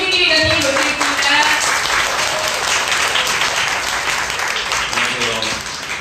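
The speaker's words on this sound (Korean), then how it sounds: "큰 박수로 트리플 다이아몬드 김민희 기자님 모시겠습니다." A seminar audience breaks into loud applause to welcome a speaker to the stage, with dense clapping that stays strong and then eases slightly toward the end.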